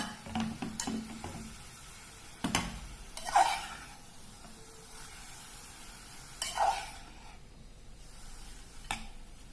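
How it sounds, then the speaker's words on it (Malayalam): Chopped onions with salt soften in a hot pan for a pepper chicken curry, giving a quiet, low sizzle. Now and then a spoon stirs and clicks against the pan, and no one speaks. "ഉപ്പിട്ട പെട്ടെന്ന് ഉള്ളി വഴന്ന് കിട്ടും. നമ്മളിത് നല്ലോണം വഴന്ന് വരുന്നത് വരെ നമുക്കിതൊന്ന് വെയിറ്റ് ചെയ്യാം"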